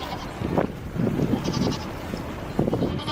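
A goat bleats loudly and close by in several wavering cries, with short gaps between calls and no talking.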